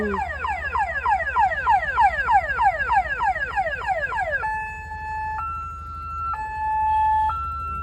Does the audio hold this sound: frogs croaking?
no